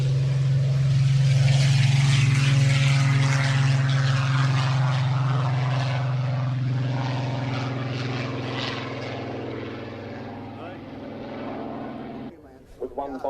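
An Avro Vulcan bomber taxis onto the runway, its engines giving a loud, steady droning roar with a strong low hum that fills the scene, easing off slightly near the end before stopping abruptly.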